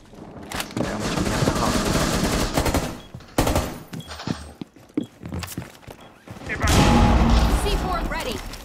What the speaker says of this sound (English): Ese puto Blackbeard tiene un rapid fire de la verga